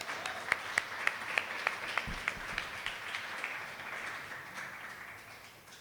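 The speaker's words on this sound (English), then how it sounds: "Big round of applause for Luke, also his first time here." Small audience at a poetry open-mic night applauds, with a few sharp, distinct claps standing out over softer general clapping that gradually fades away.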